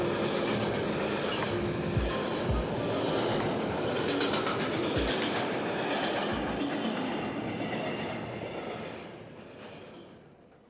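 A train pulls away and runs steadily on the rails, a sound effect in a Bengali audio drama; a loud continuous rumble with rhythmic wheel clatter gradually fades out near the end, with no voices.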